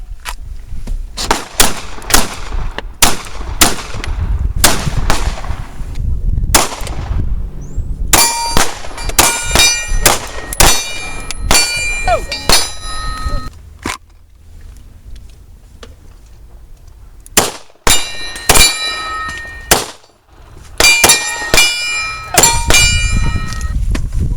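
Gunshots ring off steel targets at a carjacking survival workshop range, sharp cracks followed by bright metallic clangs and dings, fired in quick strings with pauses between volleys.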